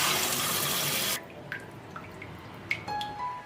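Tap water runs loudly into a sink or bowl over pork neck bones set to soak, a steady broadband rush that cuts off after about a second, followed by scattered faint drips and small splashes.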